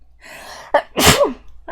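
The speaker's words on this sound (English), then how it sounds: "I have to sneeze." A single loud, close sneeze with a sharp intake of breath before it, followed by a faint start of another breath.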